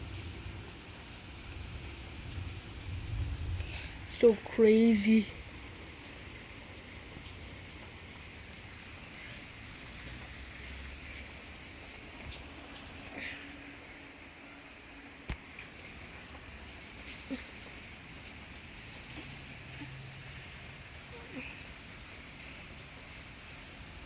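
Heavy rain pours steadily through a thunderstorm as a broad, hissing wash, with a louder burst early on and a few sharp knocks; a voice speaks briefly over it.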